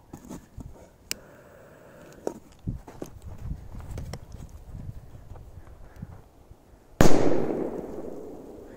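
Scattered small pops and crackles, then a single loud, sharp blast from a Spanish Cracker firecracker near the end that rings out and decays, outdoors in wind.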